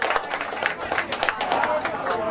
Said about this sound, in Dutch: Dames en heren, applaus voor Martin Sterk.